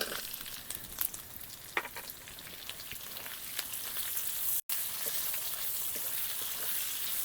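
Two chopped onions fry in a pan for a kochur loti and prawn dish, a soft continuous sizzle with occasional stirring clicks, fairly quiet and broken by a brief cut partway through.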